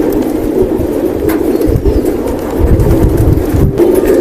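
Silver-breed pigeons coo repeatedly in a loft in Old Dhaka as they are shut inside, soft throaty calls overlapping near and far with occasional rustling and flutter.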